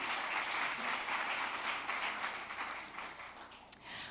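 A conference audience applauds after a speech, a soft, fairly distant wash of clapping that carries on steadily and then begins to thin toward the end.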